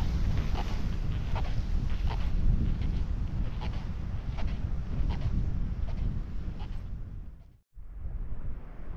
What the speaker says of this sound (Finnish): Tosi aika tommonen arktinen tuuli puhaltaa.